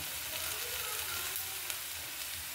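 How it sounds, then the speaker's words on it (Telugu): Ivy gourd (dondakaya) frying in a pan with tempering spices, a steady close sizzle and crackle running throughout with no talk. "దొండకాయలు ఆల్మోస్ట్ వేగిపోతున్నాయండి. పోపు కూడా మంచిగా వేగిపోతుంది."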